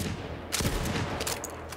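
A newly picked-up shotgun fires in Borderlands 3, giving a single loud, booming blast with a sharp onset and a ringing tail. A couple of fainter follow-up reports sound over steady game noise.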